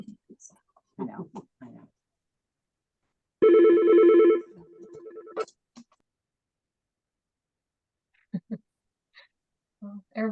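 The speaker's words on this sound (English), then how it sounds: "everybody else's phone rings like ours" A telephone rings once in a single loud burst of bell tone, surrounded by quiet pauses and brief snatches of speech in an otherwise silent room.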